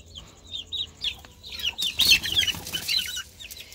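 A rooster's offspring chickens cluck and squawk in short bursts, with a brief flurry of wing flapping in the middle, fairly close and lively.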